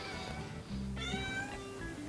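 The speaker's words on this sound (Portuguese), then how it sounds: "Tá ouvindo o gato?" A cat gives one clear, drawn-out meow with a rising and falling pitch over a low background hum, close by and alone with no talking.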